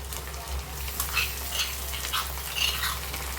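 Crushed ginger, garlic and green chili fry with tomato in a pan for biryani, giving a steady close sizzle with light stirring scrapes over a low background hum; no speech.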